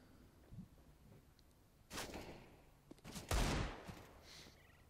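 Gunfire bursts from CS:GO on the Cobblestone map during a professional GODSENT versus NiP match, with a Deagle in play: a sharp volley near the middle, then a louder, longer burst late, over low game ambience.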